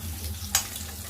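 Eggs frying in oil in a pan for a village-style egg and raw prawn curry give a steady, close broadband sizzle with one sharp pop partway through.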